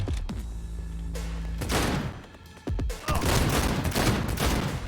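Gunfire in Cyberpunk 2077 comes as dense volleys and single shots with thuds, loud and close. It continues almost without a break, and a faint voice shows up briefly.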